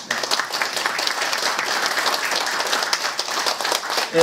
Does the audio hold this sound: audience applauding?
yes